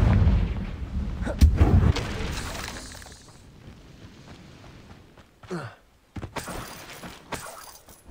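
The Confringo fire spell blasting in the video game Hogwarts Legacy, a sharp heavy explosive burst with crackling debris up front, then fading rumble and scattered smaller impacts and whooshes.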